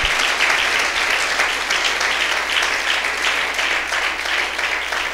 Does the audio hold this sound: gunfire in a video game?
no